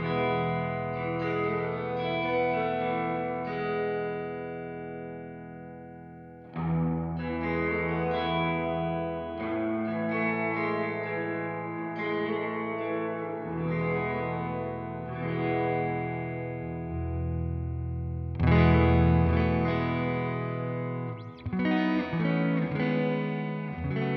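Electric guitar run through a Strymon blueSky reverb pedal with the mix turned fully wet, so only the washed reverb tone remains: sustained chords and notes swell into long, shimmering tails, played alone with no talking.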